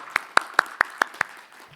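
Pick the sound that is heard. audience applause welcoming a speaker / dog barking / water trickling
audience applause welcoming a speaker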